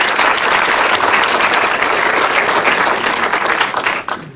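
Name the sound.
audience applause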